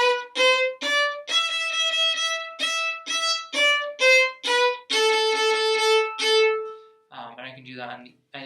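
A violin plays a low two-finger pattern as a series of short, separated notes in a steady stepping pattern, ending with a long sustained tone before a brief noisy tail.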